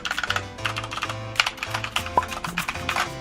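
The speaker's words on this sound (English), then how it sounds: "we had to get the colorful keyboard, you know, so I can see all the keys that I'm hitting when I'm doing my homework" Typing on a colorful computer keyboard in a college dorm room, a rapid close clatter of key presses in uneven bursts over a soft background hum.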